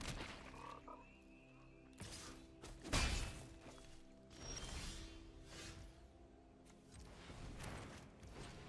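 Frog croak effects from a Psychic Frog trigger in the card game MTG Arena, a string of quiet, low, bursting croaks and thumps at irregular intervals over a faint tonal game music bed, with no speech.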